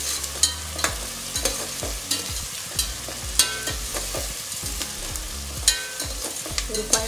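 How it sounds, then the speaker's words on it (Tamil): Onions sauté in a pan for a chicken broccoli gravy, a steady sizzle broken by regular scraping stirs of a spoon, close and clear with no talking. "நல்லா வதக்கலாம்"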